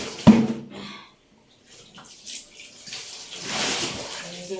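Water splashes from a tap during hand washing of laundry, a quick gush followed by a pause, then a renewed, broadening rush of running water at moderate volume.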